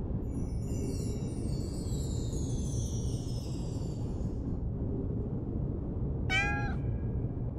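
Within the Cat Museum video game, a cat gives one short, clear meow near the end, heard over a steady low background hum with faint high chirping tones earlier.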